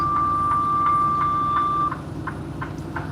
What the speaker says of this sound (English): that sound you heard was me putting my right signal on